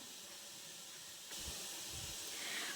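Bhapa pitha rice cakes steam in a small pot covered with cloth, giving a soft hiss that turns louder and fuller halfway through and keeps going. No voices are heard.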